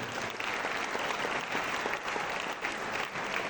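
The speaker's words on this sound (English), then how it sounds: "Please give yourselves a round of applause." Audience applause fills a 2025 awards ceremony hall, a steady dense clatter of many hands clapping at once, sustained and fairly loud throughout with no speech over it.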